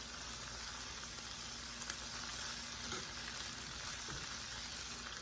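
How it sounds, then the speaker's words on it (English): Garlic sautés in a pan as the base for a Guinness beef stew, giving a steady, soft, even frying sizzle throughout with a few faint clicks, with no voices. "I'm going to let it saute for about maybe 3 or 4 minutes"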